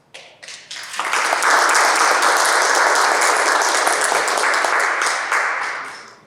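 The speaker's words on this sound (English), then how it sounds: "I think you deserve a big round of applause" A meeting audience breaks into applause, a few scattered early claps quickly swelling into loud, sustained clapping from many people that holds steady and then tapers off.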